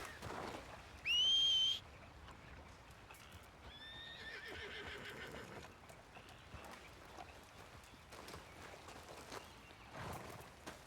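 A horse in the video game Red Dead Redemption 2 gives a short, loud, shrill whinny, then snorts and shuffles with soft hoof clip-clops over a quiet outdoor ambience.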